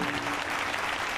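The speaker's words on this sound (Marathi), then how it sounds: "कीर्तनात बसलं की मोकळ्या मानाने उत्स्फूर्तपणे टाळी आलीच पाहिजे" Audience clapping at a Marathi kirtan: a dense, steady wash of many hands applauding together, fairly close and even in loudness across the short moment, with no talk over it.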